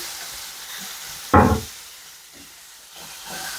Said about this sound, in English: Adding my seasoning to the pot, my garlic cloves, my onion, the pepper, everything.